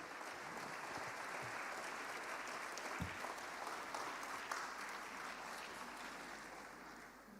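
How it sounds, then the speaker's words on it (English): Sustained applause from an audience at a 2025 executive education graduation ceremony, a broad, steady roar of many hands clapping with a few sharper claps cutting through. "Another round of applause."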